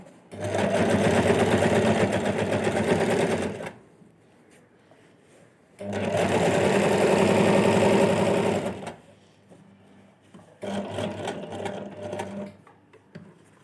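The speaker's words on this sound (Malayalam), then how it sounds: "ഇവിടെ നിന്ന് സൂചി കുത്തി നിർത്തിയിട്ട് നമുക്കൊന്ന് സ്റ്റിച്ച് ചെയ്തെടുക്കാം" Sewing machine stitching a pocket onto a nighty, running in three loud, steady bursts of rapid needle chatter separated by short quiet pauses, the last burst briefer.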